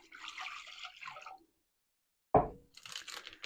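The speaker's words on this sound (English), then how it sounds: "Put the water in the bowl" Water is poured into a bowl to make Dutch oven bread dough, a single brief splash between stretches of quiet room noise.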